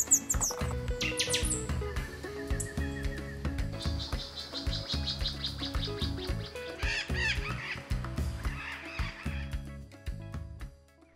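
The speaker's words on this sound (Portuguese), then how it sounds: "finalzinho de tarde, é um falcão caboré vocalizando bastante aqui" A ferruginous pygmy owl calls repeatedly at dusk in the Atlantic Forest, its notes mixed into a dense chorus of other birds chirping and insects buzzing, steady and fairly close throughout.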